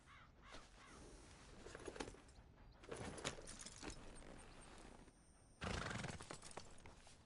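A horse in Red Dead Redemption 2 gives a wavering whinny, followed by bursts of hooves and rustling movement at moderate loudness, with a bird's caw mixed in.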